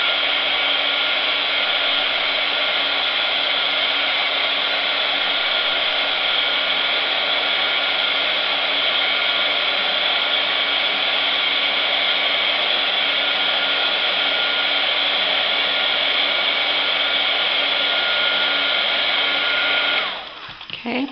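A hair dryer runs steadily and close, drying a watercolor-painted coffee filter flower, with one unbroken even whoosh for about twenty seconds before it cuts off abruptly.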